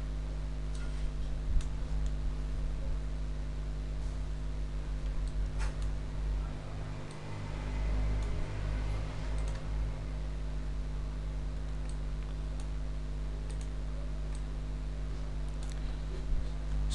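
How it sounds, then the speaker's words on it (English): Computer keyboard typing while a PowerPoint template is built, giving sparse, light clicks over a steady background hum and hiss with no voices. "let's go over and type, you know, whatever I want to type right here"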